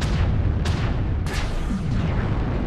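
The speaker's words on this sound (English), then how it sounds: "Oh, he's shooting lasers right now." Lasers and weapons firing in a mech battle video game, a dense roaring barrage with two sharp blasts standing out over a constant rumble.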